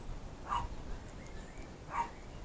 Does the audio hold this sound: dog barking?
yes